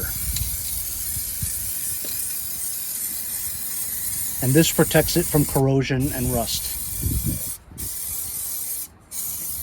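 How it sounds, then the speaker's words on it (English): An aerosol can of clear spray hisses in a steady spray onto the coilovers of a 2010 Ford F-150 SuperCrew pickup, cutting off in short breaks, while a person talks briefly over it. "But I'm just going to spray this on the coilovers."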